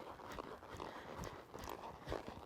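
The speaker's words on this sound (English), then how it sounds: "I'm just gonna gently jog him around here, really soften him up" A ranch riding horse jogging around an arena, with soft, faint, rhythmic hoofbeats repeating steadily in the background.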